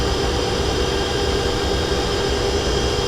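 Twin MTU 2000 V16 sixteen-cylinder diesels aboard a 2018 Viking 92 Skybridge superyacht run in the engine room, a loud, steady, dense roar with constant hum and no pauses.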